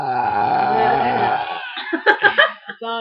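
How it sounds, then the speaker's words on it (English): Long, loud, croaky burp from a contestant in a burping contest, rumbling for over a second before giving way to breathy chuckles and snickering laughter nearby. "Let's watch your puny burp."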